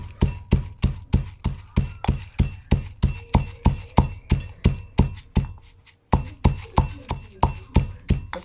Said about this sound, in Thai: อันดับแรกเราก็มา โขลกพริกก่อนเลยค่ะ นั่งโขลกกับพื้นนะคะเนี่ย